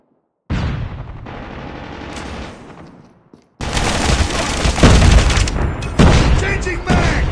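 A flashbang grenade bursts in a Call of Duty Mobile match, a sudden loud blast followed by dense rattling gunfire and battle noise, with voices calling out over it.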